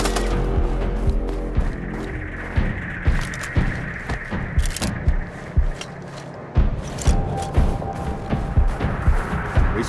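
Machine gun fire in the video game Sniper: Ghost Warrior Contracts, a dense run of sharp, loud bursts and repeated shots with booming impacts over a low rumble across the whole stretch.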